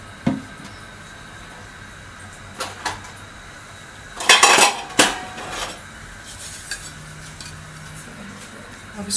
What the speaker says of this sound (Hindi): अब इसको ढक के पकाएंगे ताकि आलू गल जाए अच्छी तरह से।